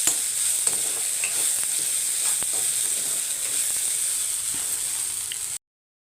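Okra roasting and being stirred in a pan, giving a steady close sizzle broken by scraping and clinking from the stirring, until the sound cuts off abruptly near the end.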